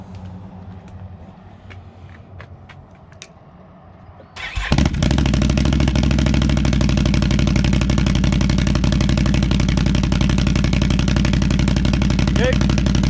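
A motorcycle fitted with an RJWC Krossflow Mud Edition exhaust cranks and fires after a few seconds of quiet, then settles into a loud, steady, rumbling idle close by, with brief talk near the start.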